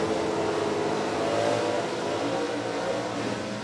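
A 2005 Chevrolet drag race car roars at a steady, loud, dense pitch as it accelerates down an NHRA drag strip, with no voices over the engine.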